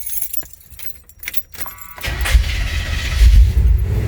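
A 1978 Chevrolet El Camino project car starts up after a brief jangle of keys, then settles into a loud, deep, rumbling idle close by.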